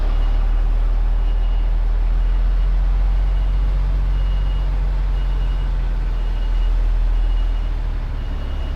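A truck with a trailer backs up slowly, its loud engine a steady low rumble up close, with a continuous hum running under it.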